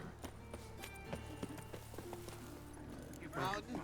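Hooves of a horse clip-clop steadily in The Witcher 3 video game, a quiet, fairly close walking rhythm running under spoken dialogue.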